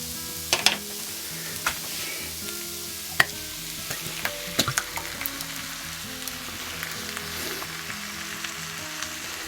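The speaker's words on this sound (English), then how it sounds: "now we'll get our passata in there" Thick passata poured into a hot pan of lasagna sauce with thyme and oregano, sizzling steadily throughout, with a few sharp clinks and scrapes. Soft music plays underneath.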